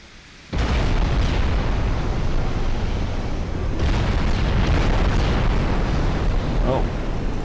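Heavy shell impacts and booming explosions pound a listing warship in a naval video game, a sudden loud blast followed by sustained rumbling detonations over several seconds, with a second burst of hits midway.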